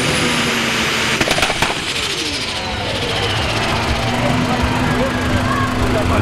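A heavy pulling tractor from the free-class 4400 kg category runs at a tractor pulling track, its engine a steady rumble with a continuous tone beneath a commentator's voice over loudspeaker.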